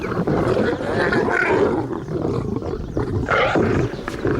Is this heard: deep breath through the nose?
no